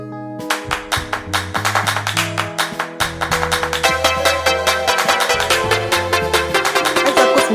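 An A&O 106 Bluetooth speaker with a 5-watt driver plays loud music: a steady, punchy beat with sustained bass notes and bright tonal layers running throughout, with no talking.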